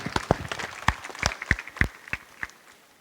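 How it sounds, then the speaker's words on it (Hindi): Scattered hand claps ring out at an eye camp ceremony in Berasia, about ten sharp, uneven claps over a few seconds, moderately close and not a full crowd roar, with no talking. "जोरदार तालियां।"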